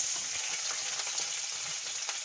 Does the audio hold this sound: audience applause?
no